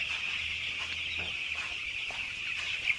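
Many young chicks peep continuously and fairly loudly indoors on a cold morning while being moved into another room, with occasional brief louder cheeps over the steady high-pitched chorus.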